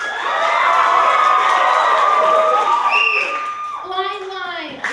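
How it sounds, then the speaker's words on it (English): Audience at a Comedy Sports alumni improv match cheering, shouting and clapping in a sustained burst of crowd noise, loud and lively, fading toward the end. "So applaud now if you prefer dating game."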